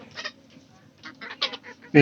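A chicken close by gives a few short, raspy clucks and squawks over about two seconds, ending in a louder burst.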